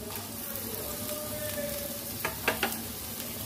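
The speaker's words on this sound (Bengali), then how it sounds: "আর পেঁয়াজটাও দিয়ে দেবো।" Chopped onion dropped into about two spoons of hot white cooking oil, a steady sizzle with a few sharp crackling pops toward the end.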